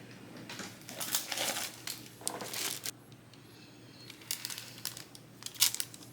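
Parchment paper handled and crinkled while working on a Cricut craft project, soft close crackling and rustling in several bursts separated by short quieter pauses, fairly faint overall.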